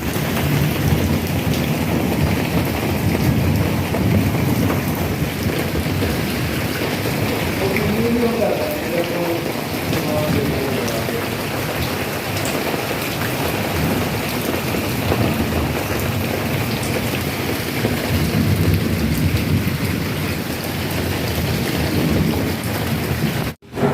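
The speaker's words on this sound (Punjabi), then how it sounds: "ਇਹ ਦੇਖੋ ਮੀਂਹ ਬਹੁਤ ਜ਼ਿਆਦਾ ਬਹੁਤ ਜ਼ਿਆਦਾ ਆ ਗਿਆ" Steady, dense heavy rain pours continuously, a loud broadband hiss throughout, with low thunder rumbling underneath and faint voices now and then.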